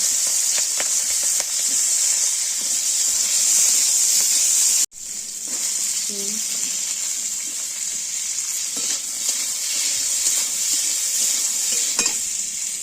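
Beans tipped into hot oil in a pan where potatoes were just fried for a winter vegetable khichuri, sizzling loudly and steadily with stirring scrapes, a brief drop in the hiss partway through.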